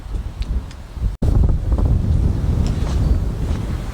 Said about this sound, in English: It's windy as hell out.